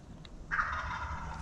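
A wild turkey gobbler in the Alabama woods lets out a single short rattling gobble from a distance, clear against a quiet background.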